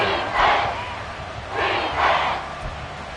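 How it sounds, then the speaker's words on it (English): A stadium crowd in the Madden 24 football video game roars in two broad swells, loud and rising then easing, with a steady crowd murmur between. "This crowd turning up the decibel level."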